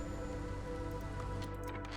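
Rain falls in the video game Against the Storm as a soft, continuous patter, quiet and even throughout a short stretch of ambience.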